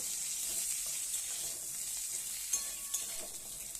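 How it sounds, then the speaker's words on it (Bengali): Pointed gourd (potol) seasoned with salt and turmeric fries in a covered karai, giving a steady, soft sizzling hiss throughout with a few faint clicks near the end. "কড়াইয়ের মধ্যে পটলটা দিয়ে দিচ্ছি"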